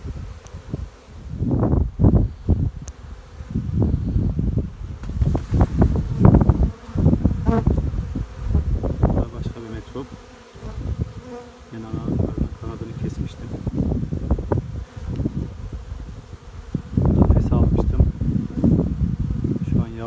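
Honey bees buzzing around two metro-type beehives outdoors, swelling and fading as insects pass close to the microphone, mixed with rustling and wind noise while someone talks intermittently.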